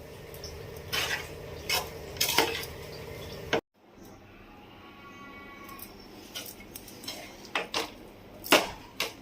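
Cooked rice is mixed with a tempering in a pan for mango pulihora, with close scraping and clanks of a spoon against the metal, a brief pause, then more intermittent stirring knocks.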